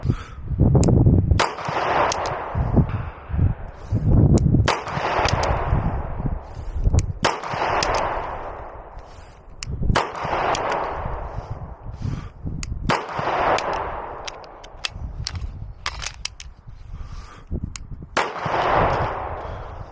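A Beretta PX4 Storm G-SD pistol fitted with a compensator fires a long string of loud, sharp shots, the reports spaced irregularly with echoing tails between them.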